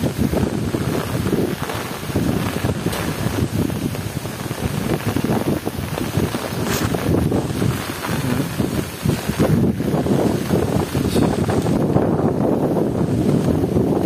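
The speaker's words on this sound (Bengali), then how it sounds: "প্রচুর পরিমাণে বাতাস হচ্ছে," Strong storm wind roars and buffets the microphone continuously, a loud turbulent rush with gusts swelling and easing throughout.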